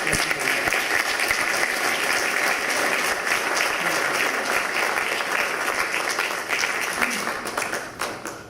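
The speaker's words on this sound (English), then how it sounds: "Let's give these gentlemen a round of applause." Sustained applause from an audience in a legislative chamber during a public debate, dense and loud, holding steady for several seconds before tapering slightly at the end.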